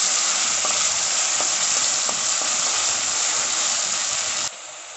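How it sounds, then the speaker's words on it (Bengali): Garlic paste and green chili paste fry in a hot pan for a Bengali fish-head and taro-greens dish, a loud continuous sizzle with light stirring scrapes that cuts off abruptly near the end. "এবার খুব ভালোভাবে মিক্স করে একটু ফ্রাই করে নেব।"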